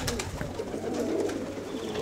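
Pigeons coo inside their loft, close and clear, with soft repeated throaty calls over a low steady background and no voices.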